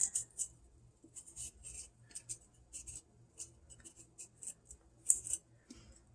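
A knife chops cucumber into pieces on a cutting board in a kitchen, giving quiet, crisp slicing taps in irregular bursts, faint and close, with no talking.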